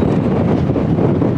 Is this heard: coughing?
no